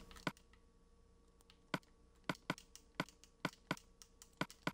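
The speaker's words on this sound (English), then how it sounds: "I don't know if you guys can hear the D-pad clicking all over the place" A game controller's D-pad clicked while playing Minecraft, about a dozen sharp, close plastic clicks at an irregular pace, some in quick pairs, over a quiet background.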